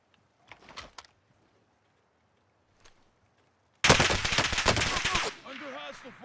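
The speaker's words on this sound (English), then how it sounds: "Under hostile fire." Sustained burst of rapid automatic gunfire in a shooter video game, loud and dense for about a second and a half, preceded by a few faint isolated shots and followed by a short ringing tail.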